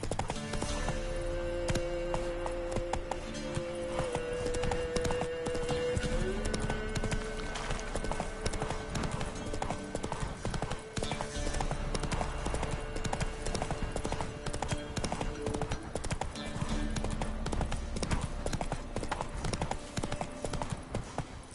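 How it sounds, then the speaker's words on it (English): Horse hooves galloping in The Witcher 3, a fast continuous clip-clop rhythm held for over twenty seconds beneath a game music bed, close and steady. "Run, Roach."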